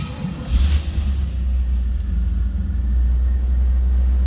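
A 1988 Chevrolet Camaro IROC-Z convertible engine idles steadily with a deep, low rumble, a brief rev near the start, then an even, continuous hum with no voices.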